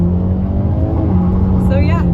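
A 2022 Hyundai Elantra N revs and pulls away under launch control, its engine droning loud and close inside the cabin while someone speaks over it.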